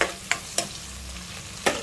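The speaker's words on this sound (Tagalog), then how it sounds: "Igisa lang natin mabuti ito para magkaroon ng lasang yummy-yummy." Ingredients for Filipino pakbet sauté in a pan with a soft, steady sizzle, and a utensil stirs and clacks a few times against the pan.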